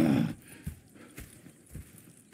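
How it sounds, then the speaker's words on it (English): Horses in the video game Red Dead Redemption 2 clip-clop at a slow walk. A louder burst opens the clip, then a few evenly spaced hoofbeats follow, moderately close. "Go check the horses are ready."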